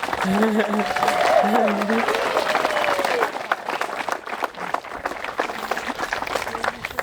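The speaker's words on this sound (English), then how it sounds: "how about a round of applause for our musician?" Guests at an outdoor wedding ceremony in Crysler, Ontario clap for the musician. The applause is a continuous, dense patter throughout, with a voice speaking over it early on.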